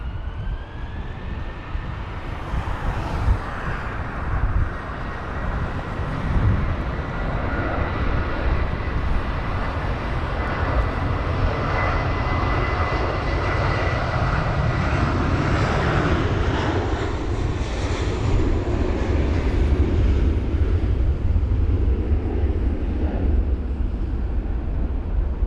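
Airbus A320ceo taking off from a runway at London Heathrow during a storm, its engine roar building steadily from a distant rumble into a loud, sustained thrust as it rolls and rotates, with wind noise throughout.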